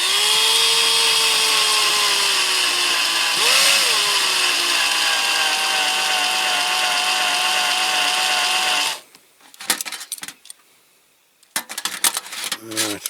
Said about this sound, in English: This drill is as blunt as old Nick.